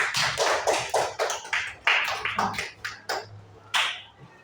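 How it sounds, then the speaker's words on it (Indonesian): Scattered classroom claps for a classmate, a dozen or so sharp, uneven hand claps in a loose rhythm, close and fairly loud, with a faint hum beneath. "Tepuk tangan dulu untuk kawannya dulu."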